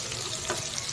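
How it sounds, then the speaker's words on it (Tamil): Chopped onions with salt sauté in a pan, giving a close, continuous sizzle with a light stirring scrape. "சால்ட் சேர்த்து நல்லா வணக்கி விட்டுக்கோங்க."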